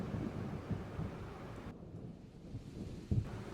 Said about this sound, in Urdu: بارش باہر گرج رہی تھی